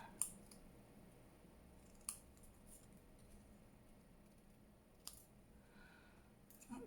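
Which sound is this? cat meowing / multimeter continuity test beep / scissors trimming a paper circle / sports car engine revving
scissors trimming a paper circle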